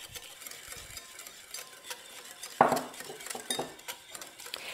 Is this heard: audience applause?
no